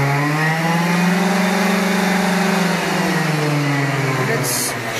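A tuned moped's small two-stroke engine revs hard and high, around 11,000 RPM, with a new exhaust, its buzzing pitch climbing and holding close to the microphone, loud and continuous.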